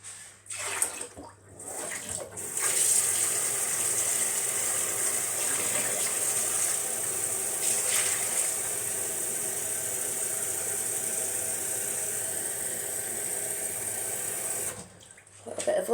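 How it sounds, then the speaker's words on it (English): Tap water running steadily into a container for a drink, a continuous close hiss that starts after a couple of seconds and carries on for most of the stretch before stopping. "just let me fill. I need some water."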